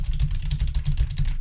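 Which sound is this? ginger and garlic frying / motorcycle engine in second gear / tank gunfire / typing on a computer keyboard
typing on a computer keyboard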